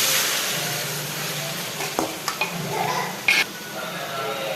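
Chicken goes into hot masala in a pan for biryani and is stirred as it fries, giving a steady close sizzle with scraping and clinking of the spoon against the pan, plus a few sharp taps.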